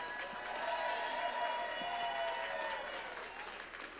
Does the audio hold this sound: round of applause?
yes